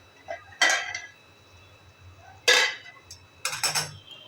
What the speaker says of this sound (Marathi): चला आपण झाकण काढून पाहूया.